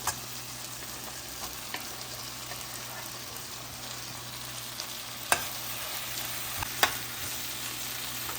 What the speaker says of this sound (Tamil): கட் பண்ணி வச்சுருக்கிற பீர்க்கங்காயை போட்டு நல்லா வதக்கிடலாம்